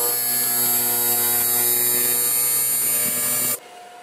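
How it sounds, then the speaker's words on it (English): A metal seam being welded on a shop part produces a steady, loud electric hum and buzz that holds for about three and a half seconds before cutting off abruptly. "And now I can weld this seam."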